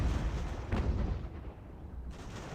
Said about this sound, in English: they're firing grape or canister